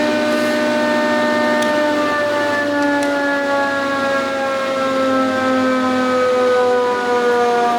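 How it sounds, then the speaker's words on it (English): An SCMI S520 10 hp planer runs with a quiet gearbox, producing a loud, steady mechanical whine with layered tones that drift slightly in pitch. The sound continues unbroken and no one speaks. "Nice quiet gearbox."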